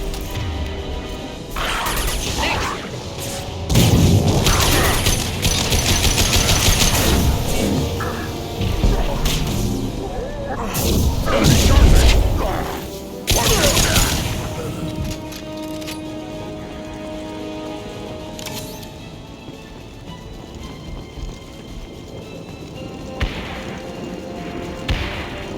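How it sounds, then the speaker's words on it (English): Explosions and combat crashes from the video game Mass Effect 2 sound as loud, dense bursts and thuds that come in clusters over about twenty-five seconds and fade to quieter action near the end. "Impending explosion!"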